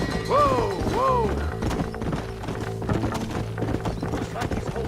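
Horse hooves clip-clopping in the Red Dead Redemption video game, a steady run of hoof thuds with two whinnying neighs early on, mixed with game noise and bits of talk.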